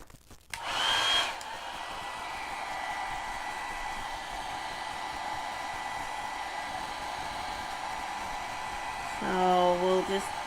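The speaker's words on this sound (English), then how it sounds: "just grab the blow dryer and I'm gonna blow dry it." Blow dryer on low setting drying a glass block, a steady close whooshing hum switched on near the start and running throughout, with a brief voice near the end.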